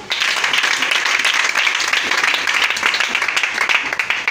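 A church congregation claps and applauds together, a loud, steady wash of clapping that lasts throughout.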